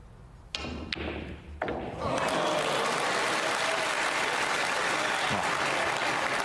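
Snooker crowd at the English Open bursts into loud, sustained applause after a shot, a few sharp knocks and thuds first, then dense clapping that fills the hall without letting up.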